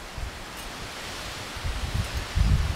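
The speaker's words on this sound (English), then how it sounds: "It's crazy, this wind." Strong April wind rushes through garden trees in a steady broadband roar, with gusts swelling louder toward the end and a few low rumbles of wind buffeting the microphone.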